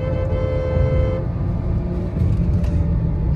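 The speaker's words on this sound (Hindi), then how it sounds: "आप एक्सेलरेशन में देख सकते हैं हमारी थार से आगे निकल चुकी है क्रेटा" Mahindra Thar and Hyundai Creta accelerating side by side in a drag race, a steady engine drone and road rumble with a faint tonal whine that fades and then swells again.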